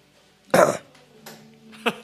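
A man coughs into a radio studio microphone: one loud, close burst followed by a softer cough and then a sharp third one.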